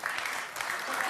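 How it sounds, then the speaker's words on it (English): A lecture audience breaks into sustained applause and cheering, a dense, steady wash of clapping and voices that holds evenly for the whole second. "Why are you cheering that?"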